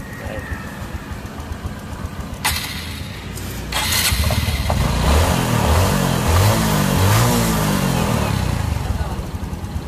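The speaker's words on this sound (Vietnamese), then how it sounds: "Nổ máy thì guarantee im đó" A Honda Future 125 motorcycle being repaired for a chipped cam chain tensioner wheel starts up and revs, its mid-pitched engine rising and falling in repeated throttle blips after a few sharp clicks, with someone talking over it.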